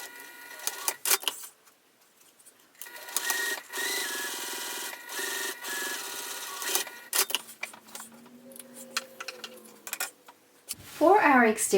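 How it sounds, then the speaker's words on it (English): A sewing machine top stitches down the sides of a fabric bag in close, bursty runs of rapid mechanical whirring with pauses between, ending in a short squeak-like rattle. "I'm going to top stitch down both sides of this to hide that raw edge"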